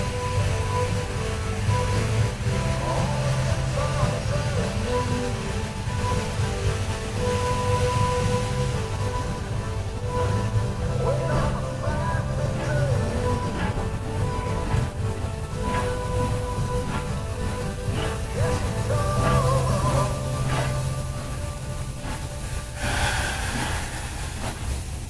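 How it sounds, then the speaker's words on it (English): Dollywood steam locomotive 192 backs slowly onto its train, giving a steady rumble and hiss with metallic clanks and squeals from couplings and wheels, continuous for the whole stretch at moderate distance. "192 backed onto the train."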